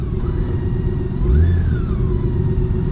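A 2021 BMW K 1600 Grand America touring motorcycle riding along, its engine a loud steady drone with a brief swell of revs partway through, no talking.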